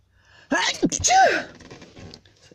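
One close, sharp human sneeze, a quick intake breath and then an explosive burst, followed by a short trailing exhale.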